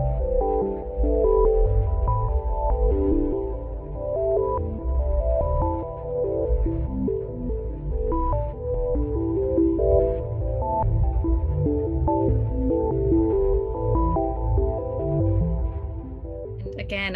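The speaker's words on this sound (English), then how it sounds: "what you're hearing is essentially thousands of black holes" NASA sonification of its deepest X-ray image, thousands of black holes rendered as layered, throbbing synthetic tones that drift and shimmer steadily for the whole stretch, dense and continuous with no voices.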